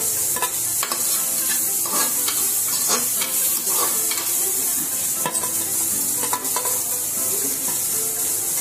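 Vegetables and green chillies stir-fried in a little oil for a light dinner, a steady close hiss of frying with repeated scrapes and clinks of a spatula stirring the pan throughout.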